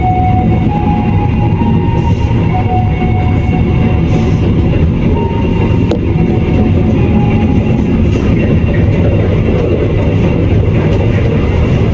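The Jayabaya passenger train runs steadily on the rails toward Cirebon, a continuous loud rumble with faint rhythmic clicks and a few high tonal squeals over about twelve seconds.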